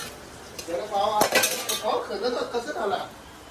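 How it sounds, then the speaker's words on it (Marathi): Dishes and cutlery being washed in a sink clatter and clink nearby in quick bursts, with faint voices underneath. "आता भांडी घासता"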